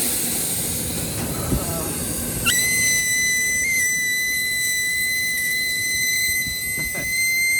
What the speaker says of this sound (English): put a little bit of refrigerant going to this compressor, and you can immediately hear it.